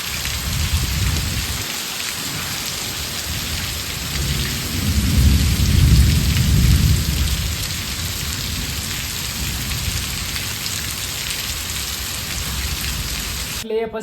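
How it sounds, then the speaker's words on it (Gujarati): Heavy monsoon rain pours steadily over farm fields, a dense roaring wash with a deep rumble of thunder swelling in the middle, constant and enveloping. "અત્યારે ચાલુ થઈ ગયું ધબધબાટી બોલાવતું ચોમાસું"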